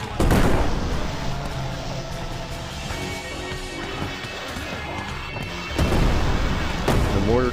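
Mortar fire in Plastic Battlegrounds during a Vietnam-era zombie attack, with booming impacts and crackling gunfire, loudest at the start and again near the end, over continuous battle noise.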